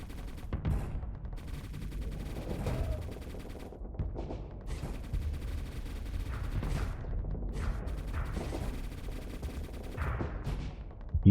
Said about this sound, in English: You're just sitting here blasting with your little baby guns.